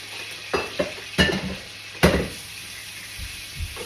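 Ham steak cooking on low heat in a pan for Sunday brunch, a soft continuous sizzle broken by three or four clear clanks of a utensil against the pan, close and with no talking.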